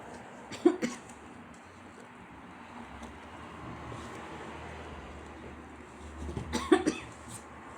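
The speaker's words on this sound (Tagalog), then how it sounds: "Huwag kang paubo-ubo dyan" Two short bursts of coughing, one near the start and one near the end, separated by quiet background noise.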